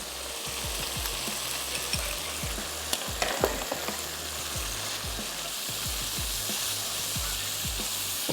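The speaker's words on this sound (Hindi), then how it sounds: "थोड़ा सा भूनते हैं।" Minced meat qeema with lobia fries with salt and garam masala in a pan, a strong close sizzle under a regular beat of spoon scrapes and stirring strokes, steady and without voices.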